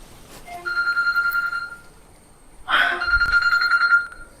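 A telephone bell rings in two bursts inside a home, the second longer, with someone speaking faintly before it is answered.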